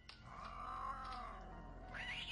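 Black cat in the King's Quest 3 Redux game, a drawn-out meowing yowl, fairly faint, rising and falling over about two seconds and ending in a higher-pitched cry.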